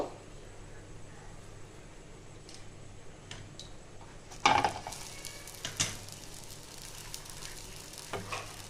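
Ghee brushed over patishapta pitha in a hot pan gives a soft continuous sizzle, broken by a few sharper crackles and light clinks of the brush or utensil against the pan.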